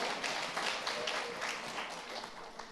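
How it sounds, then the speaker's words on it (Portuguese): A church congregation gives a burst of strong applause during a sermon. The clapping is a steady, dense wash of many hands at moderate distance, fairly soft overall, with no clear speech over it. "uma salva de palmas bem forte"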